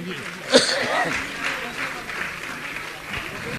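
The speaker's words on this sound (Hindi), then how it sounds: "आप जोरदार ताली बजाकर इनका सम्मान करें। ताली आपकी बजने चाहिए।" An audience applauds to honour trustees at a Jain religious gathering, a full, sustained round of clapping that starts with a sharp burst and stays steady, with light murmurs and a brief voice underneath.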